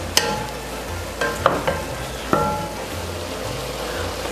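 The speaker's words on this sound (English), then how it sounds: "So we're giving it a thorough mix." A thick tomato sauce with meat is mixed steadily in a pot, with a continuous wet stirring churn, a low sizzle, and a few distinct spoon knocks against the pot.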